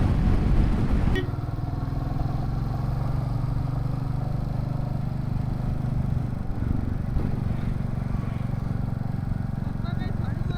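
A motorcycle rides across Pamban Bridge with a steady, close engine drone and wind rush that hold evenly throughout.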